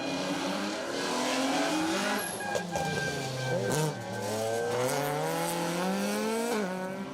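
A rally car races along a stage, its engine droning and climbing through the revs with tyres squealing and skidding as it slides, loud and continuous throughout.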